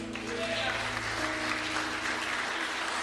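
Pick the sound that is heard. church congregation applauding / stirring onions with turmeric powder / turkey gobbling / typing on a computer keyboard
church congregation applauding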